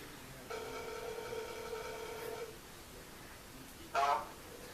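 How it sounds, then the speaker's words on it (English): A telephone rings on an outgoing call to a friend, one sustained electronic ring tone lasting about two seconds, then a pause and a short, sharper burst of a second ring, heard fairly faintly in a quiet room. "AT&T, can we get Kyle Edwards on the phone, please?"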